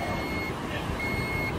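Vehicle reversing beeps sound as two long, steady electronic tones over loud rumbling traffic noise outdoors, with no voices.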